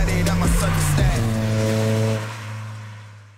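A Toyota Celica ST205 GT-Four, a Japanese import, revs loudly up close, its engine note climbing and falling before fading away.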